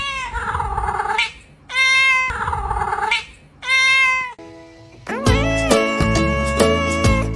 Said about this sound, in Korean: 말 그대로 정말 야옹하며 울기도 하는데요.